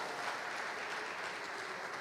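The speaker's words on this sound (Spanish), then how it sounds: "Démosles un aplauso a estos supervisores, hermanos, que están acá." Church congregation applauding their supervisors during a worship service, a dense wash of clapping from many hands that holds steady and fairly even for the whole moment, heard from within the room with no voice over it.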